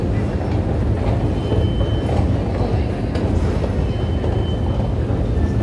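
A metro train rides through Chorsu station, a continuous loud rumble and rattle of wheels on rails with steady rolling noise throughout and no clear talk.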